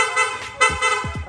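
A Honda ADV160 scooter's aftermarket horn sounds in rapid, stuttering bursts, bright and buzzy, several quick toots close by within a second.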